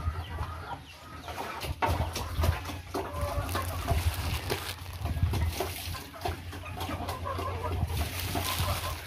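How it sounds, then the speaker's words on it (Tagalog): Chickens cluck and chatter steadily in the background amid outdoor ambience, with a low hum running underneath. "pati mga alagang manok nandoon"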